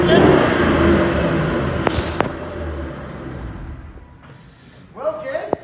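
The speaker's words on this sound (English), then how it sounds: "Listen to the beast." A 2011 Ford Shelby GT500 engine revs close by, a loud throaty roar that gradually settles toward idle, with someone talking over it near the end.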